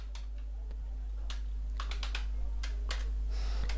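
Computer keyboard keys tapped in scattered clicks and quick runs while text is entered in MS Word, close to the mic over a steady low hum, with no speech.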